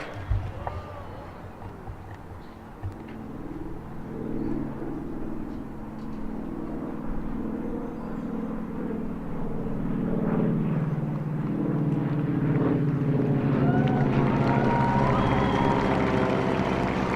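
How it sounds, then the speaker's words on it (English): Vintage aircraft from the Commemorative Air Force flying over an outdoor Wreaths Across America ceremony at Houston National Cemetery, a low engine drone that swells and grows louder as the planes pass overhead. "Get ready for the flyover."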